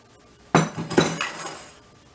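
Spoon or spatula scraping thick macaroon pie mixture out of a pan, giving a few brief scraping knocks and clinks close up, with no talk.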